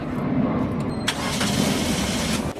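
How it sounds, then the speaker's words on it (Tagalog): A Suzuki Ertiga's engine cranks and catches in a workshop after its coolant was replaced, with a continuous loud mechanical roar and a sharp jolt partway through, no voices present. "pa-start ko na itong makina ni customer"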